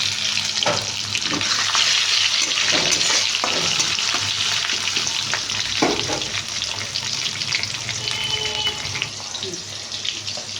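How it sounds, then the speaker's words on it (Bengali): Ginger and tomato fry in oil with a dense, continuous sizzle close by, broken by occasional scraping stirs. "আদাটা অল্প করে ভেজে নিই, একদম অল্প করে টমেটো দেবো।"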